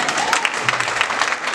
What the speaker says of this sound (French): On applaudit l'Esprit de Dieu.